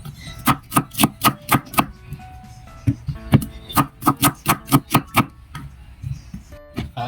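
Onions being chopped on a cutting board with a knife, a run of sharp, evenly spaced chops in quick bursts, pausing briefly before resuming, close and clear with no talking.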